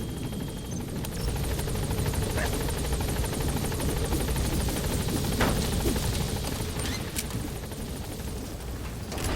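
The Pequod helicopter in the Metal Gear Solid V video game arrives at a landing zone with a loud, steady rotor drone throughout, as voices talk over it.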